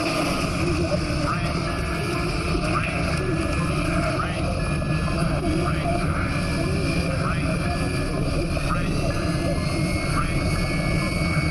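An airplane lands through a volcanic ash cloud, its engines giving a loud, continuous roar that fills the cabin for the whole stretch and never lets up.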